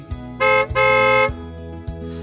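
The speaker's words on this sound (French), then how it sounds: "le taxi klaxonne devant des maisons au hasard pour faire sortir les" A taxi horn blares in two long honks separated by a brief gap, loud and close, over a steady engine drone in a rural area among banana plantations in Colombia.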